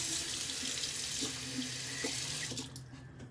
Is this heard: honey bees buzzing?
no